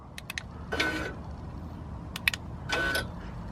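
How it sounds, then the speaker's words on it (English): AWE Switchpath exhaust valve actuators on an Audi S3/Golf R whir and click mechanically, two short motor bursts a couple of seconds apart with small ticks around them, fairly quiet and close. "that is the sound of the valves actually working"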